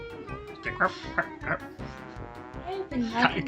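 A man imitates a dog barking with his voice, a few short yappy bursts mixed into lively speech, close and loud amid laughter and talk.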